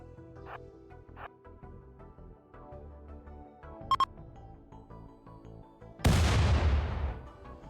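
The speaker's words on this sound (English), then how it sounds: "He does have a long-range cannon, it just doesn't seem to do much" A long-range cannon firing in a space video game, a sudden loud booming blast near the end that decays into a rumbling wash, preceded by quieter electronic tones and a couple of short sharp blips.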